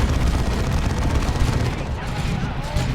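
Assault Cannon barrage tearing into Orks in Dawn of War 2: dense, continuous rapid gunfire and explosive rumble throughout, loud and sustained with no pauses, voices faintly mixed in.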